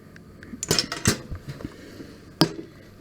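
Milk stirred in a test tube or container during a classroom food test, a few sharp clinks and taps of glass or metal with quiet rustling between them.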